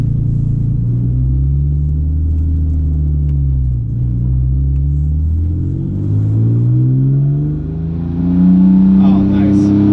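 An Acura NSX drives along with a steady engine rumble heard from inside the cabin, its pitch rising and falling as it shifts gears and accelerates.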